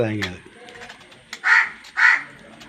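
Two harsh crow caws ring out about half a second apart at moderate distance, following a brief bit of speech at the start, with quiet background noise between calls.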